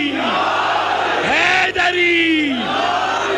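A crowd at a majlis chants the religious slogan Haidari in loud, sustained unison, a single drawn-out call that rises and falls, with a brief break partway through.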